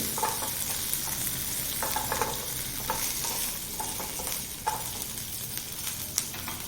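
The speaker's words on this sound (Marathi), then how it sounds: "आता हे चांगलं मिरची लसूण जिरे हे सगळं भाजलं गेलं आहे" Green chillies, garlic and cumin roast in a pan for an okra thecha, giving a steady, close sizzle with occasional spatula scrapes and taps as they are stirred.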